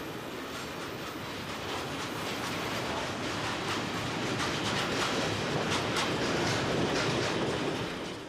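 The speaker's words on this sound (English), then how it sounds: "This is wagon load freight par excellence, with a typical mixture of containers, tank wagons and vans." A long Belgian wagon-load freight train of mixed containers, tank wagons and vans rolls past on a single-track branch line, a steady loud rumble with rhythmic wheel clatter and faint squeals throughout.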